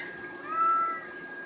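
A single medium-loud meow from a cat rises and falls over about half a second against a quiet room background, with no talking.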